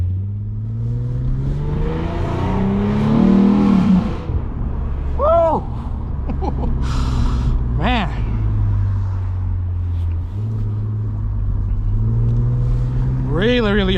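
A catless Lexus IS250 cruises at night, its exhaust droning steadily with a swell of revving early on, heard from inside the cabin with people talking over it.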